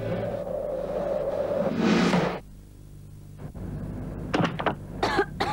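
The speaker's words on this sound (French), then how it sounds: "Oh la pauvre, quelle toux!" A child coughs at night in a domestic setting. There is one loud, breathy cough burst, then quiet, then a cluster of several sharp coughs in quick succession over a low background hum.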